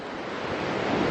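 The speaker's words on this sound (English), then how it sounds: "can you hear the waves?" Ocean waves on a rocky, seaweed-strewn coast give a steady, loud, broad rush of surf with some wind noise on the microphone, swelling slightly over about a second.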